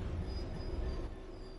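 A train running on rails while braking toward a stop, with a steady low rumble of wheels and a faint high brake tone that eases off near the end.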